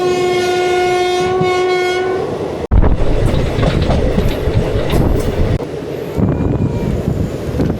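A 56603 passenger train near Walayar in Kerala, heard close up: a long horn blast sounds first, then the loud rumbling roar and rhythmic clickety-clack of the wheels over the rails.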